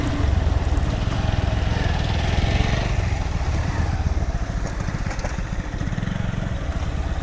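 A motorcycle engine chugs steadily and close by, revving slightly as it rides over rough ground through a paddy field, with no talking.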